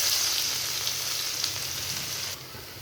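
Crushed garlic sizzles in hot oil in a kadai, a steady, close, bright hiss that carries on unbroken and then drops a little softer just before the end.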